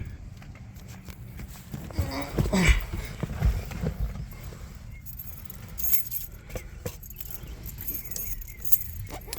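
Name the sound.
original 1959 Ford Thunderbird keys jangling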